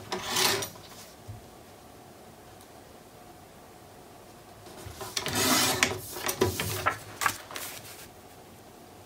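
Paper being trimmed down to height for a Stamperia Imagine mini album, heard as a few short rasping cutting strokes, one early and a longer cluster later, close and moderately loud with quiet gaps between.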